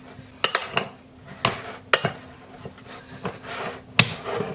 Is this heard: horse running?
no